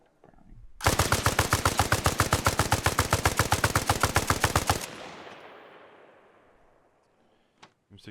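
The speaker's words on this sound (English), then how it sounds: "M60 mounted turret." An M60 mounted turret in the game ARMA Reforger fires a long, rapid, evenly spaced burst of loud shots, then cuts off into a fading echo, followed by a couple of faint distant pops.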